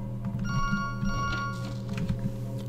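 A phone rings in the video game To The Moon, a steady electronic tone that repeats in short pulses over a low background hum, fairly clear and alone.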